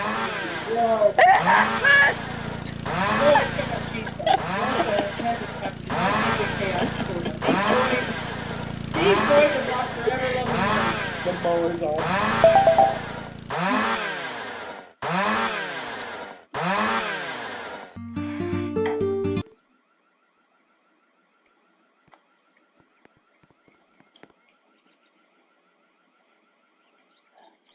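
A lawnmower engine in the Roblox video game drones loudly and steadily with a rising, wavering pitch for about twenty seconds, with a voice speaking over it, then cuts off into near silence.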